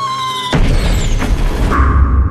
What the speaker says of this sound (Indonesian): Bayi pun lahir bersamaan dengan suara petasan yang mengacaukan keheningan malam itu